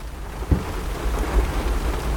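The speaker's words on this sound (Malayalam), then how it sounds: "നല്ല ബെസ്റ്റ് ടൈം, കൊല മഴ" Heavy rain pours in a dense, constant hiss, with low thunder rumbles thudding twice through the downpour; no one speaks.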